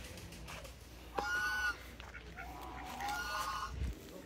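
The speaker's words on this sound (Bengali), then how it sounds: "এখানে দেশি হাঁস দেখা যাচ্ছে, তারপরে হচ্ছে যে রাজহাঁস, ঠিক আছে, চায়না হাঁস" Geese honk on a wildlife farm also keeping native ducks and Chinese ducks, giving two separate drawn-out honking bursts at moderate distance over low background noise.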